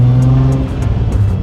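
A VW Golf Mk1 two-door with a swapped-in R32 engine revs loudly and close up, giving a steady throaty drone with a few rising pulses across a short burst.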